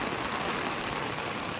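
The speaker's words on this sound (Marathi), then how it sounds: "आणि पाऊस बघा वाळात." Heavy rain pours near a pond in the Konkan countryside, giving a brief, dense, even hiss of falling water with no breaks.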